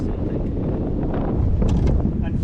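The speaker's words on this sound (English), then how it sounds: "Unfortunately, today it's too windy" Strong wind buffets the microphone outdoors by the water in North Cascades National Park, a loud continuous low rumble and roar with voices talking underneath.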